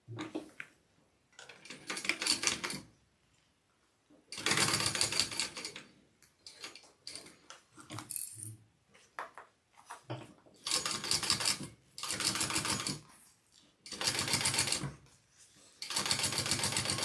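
A sewing machine stitches a bag in repeated bursts of rapid mechanical whirring and ticking, each run lasting one to two seconds with short pauses between, close and clear with no talking.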